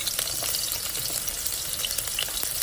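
Cabbage frying in a hot pot, a dense steady sizzle with crackling spatters and some stirring, loud and close throughout with no voices.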